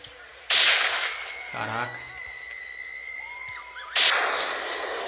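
Two sharp, loud shots from a sniper rifle in the mobile game Sniper 3D Assassin, one at the start and one near the end, with a player exclaiming and game tones between them.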